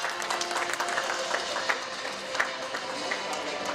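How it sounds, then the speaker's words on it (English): An audience at a hospitality technology panel in Mumbai claps in sparse, scattered bursts, moderately distant and fairly light, with individual hand claps standing out over a low room murmur. "We can have those claps, please."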